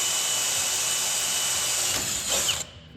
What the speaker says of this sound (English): I'm gonna pilot them with an 1/8 inch, and then we'll drill them out a little bit bigger.